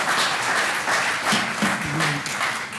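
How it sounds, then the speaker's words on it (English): An audience claps at a Clearwater city council meeting, a steady patter of applause from many hands filling the room, with a brief murmured voice underneath. "just hold the applause"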